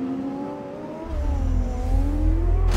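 A car engine in the Indian open-world game Mayanagari revs loud and close, a steady droning pitch swelling as a deep rumble kicks in partway and keeps building.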